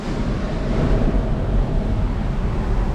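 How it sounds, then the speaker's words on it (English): Ocean waves heard from inside a beach cave, a steady low rumbling wash of surf with wind-like hiss, continuous and fairly loud with no voices. "That's waves behind me"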